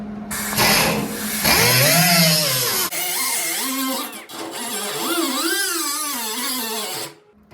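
A power tool grinds a little off the edge of a metal patch panel for rust repair, a loud close whine rising and falling with load for several seconds before cutting off.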